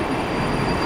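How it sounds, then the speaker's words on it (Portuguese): A Moscow metro train on the central circle line arrives at Belorusskaya station, a loud, steady rumbling roar of wheels and carriages heard from close by for a brief moment. "Chegamos à próxima parada desta linha circular central, é Beloruskaya"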